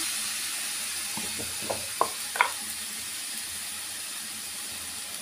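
Mutton pieces sizzle and fry in a hot pan while mutton sherva is being cooked, a steady soft hiss broken by a few brief crackles and stirring clicks near the middle.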